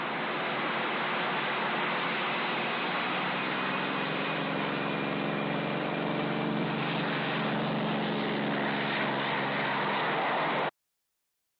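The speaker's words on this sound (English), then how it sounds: "Keep the trigger down till you feel the thrust of the rockets" An aircraft engine roars at takeoff with rocket-assisted thrust, a continuous loud rumbling drone with a slowly varying tone that runs for about ten seconds, then cuts off abruptly.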